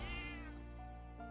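Cat meowing in Metaphor ReFantazio: a single short, clear meow that tails off, close and isolated against a quiet background with faint game ambience.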